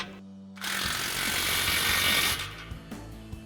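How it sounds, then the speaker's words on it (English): A power tool whirs and rattles for about two seconds, tightening exhaust clamps on a 2019-2024 Silverado or Sierra 1500 MBRP Armor Lite dual exhaust, then stops, leaving a few small clicks. "Now we'll fully tighten down our clamps."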